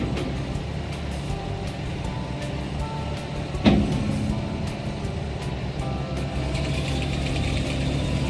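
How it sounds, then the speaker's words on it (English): A Bale King 6105 bale processor runs with a steady, droning engine and machinery rumble while its triple loading forks set a bale into it, a single sharp clunk rising out of the din partway through. "Then the triple loading forks place the bale accurately into the processor."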